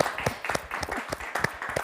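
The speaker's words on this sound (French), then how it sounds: "On peut applaudir Mathieu." An audience at a zero-waste design award ceremony in Paris claps for a prize winner, with brisk close claps of uneven rhythm through a short burst.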